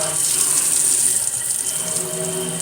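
A kitchen faucet sprayer runs steadily into a sink, rinsing it out with a constant hissing rush of water that stays loud and unbroken throughout.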